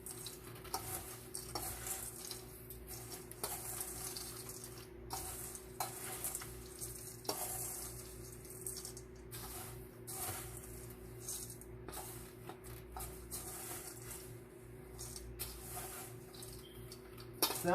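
Irregular scraping and clinking of a utensil stirring milk chocolate into homemade pumpkin granola in a bowl, soft rustles and taps over a low, steady hum.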